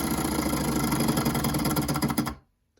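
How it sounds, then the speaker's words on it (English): Stirling hot air engine chugging with a fast, even mechanical rhythm and rattling knock, close and steady, then stopping abruptly into silence after about two and a half seconds. "The Stirling engine."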